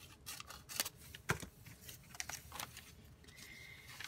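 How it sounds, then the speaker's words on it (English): Scissors cut through recycled paper being made into envelopes, giving faint, close snips and paper rustles in an irregular rhythm, quiet and with no one talking. "So we're going to cut these up and we're going to make three envelopes."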